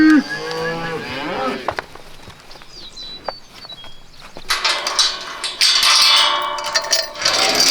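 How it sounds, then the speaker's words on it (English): Cows moo loudly and close by as the herd is moved through a farm gate, with several long calls rising and overlapping. "The cows want to move."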